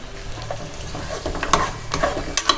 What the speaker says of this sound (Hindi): अब इसमें मैं ये दही डाल दूंगी